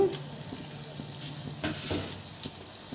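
Chana dal frying in oil in a pan for pulihora, a soft, quiet sizzle with a few light stirring taps, close but faint.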